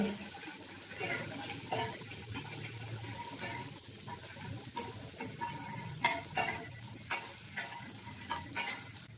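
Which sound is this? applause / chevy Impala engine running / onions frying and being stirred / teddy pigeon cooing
onions frying and being stirred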